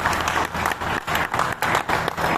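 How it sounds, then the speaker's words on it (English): Audience applause at a business summit and exhibition, a steady wash of many hands clapping close by, swelling and dipping in waves for a couple of seconds. "Can we clap for him once again?"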